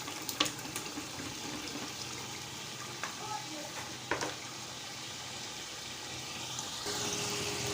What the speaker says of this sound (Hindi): तो अब इसके अंदर हम शामिल कर देंगे पालक